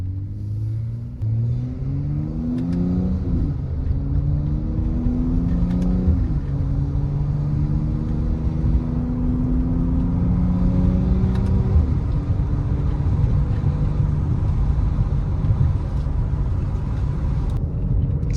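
A Mercedes-AMG GLC43 engine pulls through the gears while driving, rising in pitch with each gear, dropping at each shift, then settling into a steady drone, loud and close from inside the cabin.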